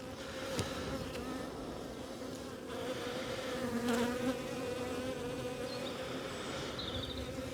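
Honey bees drone steadily around open beehives while frames are checked for the queen, a dense, close, moderately quiet buzzing with occasional individual bees passing nearer.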